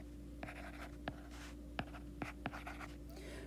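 Board eraser dragged across a classroom board in several short, scratchy strokes spaced about half a second apart, faint over a low steady room hum.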